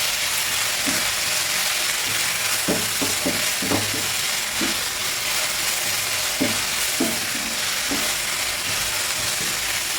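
Sliced onions sizzle and fry in a pan for egg curry, a steady hiss with intermittent scraping stirs and clinks throughout.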